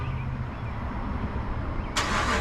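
A 5.7 Hemi V8 in a fourth-generation Ram 1500 with the resonator deleted and the muffler still fitted rumbles at a steady idle, then swells suddenly into a louder, harsher roar near the end.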